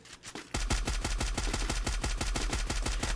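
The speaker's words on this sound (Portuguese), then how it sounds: "Tiro atrás de tiro na parede" Automatic weapon fire in the mobile shooter game Free Fire during an esports league match: after a brief lull, loud rapid shots ring out in a fast, steady rhythm of roughly seven per second, close and continuous to the end.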